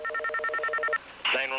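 Cellular phone dialing tones sound as a quick even series of about ten close beeps, followed after a short gap by a brighter warbling phone tone, fairly loud and with no talk.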